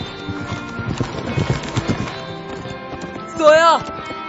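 A horse gallops off toward the sea, its hoofbeats rapid and rhythmic under music and voices, followed near the end by a brief loud whinny.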